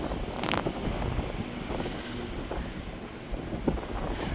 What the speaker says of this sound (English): It is too windy out here.